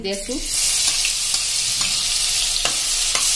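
Ginger, garlic and green chili paste sautéing in oil with asafoetida, a bright continuous sizzle with periodic spoon scrapes, close-up, after a brief spoken word at the start.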